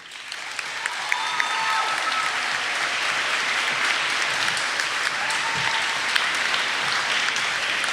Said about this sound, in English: Please give a round of applause to Ms. Sharanchik.